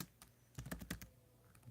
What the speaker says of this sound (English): I'm going to type in respect thread